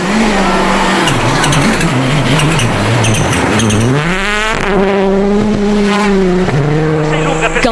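A rally car charges along a snowy stage at Uddeholm Rally Sweden, its engine revving hard through repeated gear changes and rising pitch sweeps, loud and close, with sharp pops between shifts.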